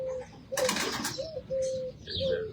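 Pigeons coo in a loft with grilled floors, giving low, repeated hooting calls close by. A short burst of rustling, flapping noise cuts in partway through.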